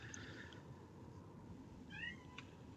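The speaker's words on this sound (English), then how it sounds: "And my cat also arrived." A house cat meows a few times during a live esports broadcast, short faint cries against a steady low background hum with no talk.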